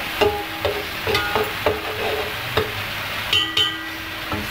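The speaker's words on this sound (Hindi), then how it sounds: "ये अदरक लहसुन और प्याज की पेस्ट इसको अच्छी तरह से भून" Ginger, garlic and onion paste frying in a pan for chicken korma, a steady close sizzle broken by recurring scraping stirs and light metallic clinks of a spoon against the pan.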